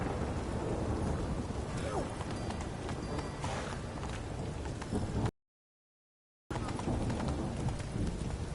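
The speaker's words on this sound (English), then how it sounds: "A storm, damn it." A thunderstorm in the video game The Witcher 3 brings a dense wash of rain and rumbling thunder, mixed with galloping horse hooves, steady and loud, broken by a second of silence.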